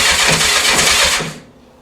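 A 1984 Honda CB700SC motorcycle with choke on tries to start, its engine cranking and sputtering loudly in rapid chugging pulses for over a second before cutting off abruptly.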